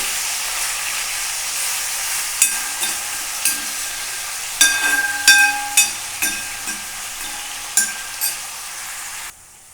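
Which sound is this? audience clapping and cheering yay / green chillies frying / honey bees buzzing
green chillies frying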